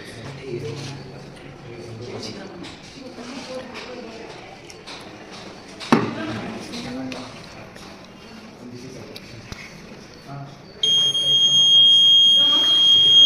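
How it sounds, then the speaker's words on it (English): A steady electronic buzzer tone from a flood alarm model's water-level sensor starts late and holds continuously, loud and close, after a stretch of talking and handling noises at a science exhibition. "you can hear the beep sound occurs when the level of the water is increased"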